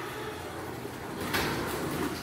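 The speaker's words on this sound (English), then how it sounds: "Finally, the garage door opens." An automated garage door moves with a continuous mechanical rumbling drone, growing a little louder and brighter partway through as the door travels, steady and fairly close.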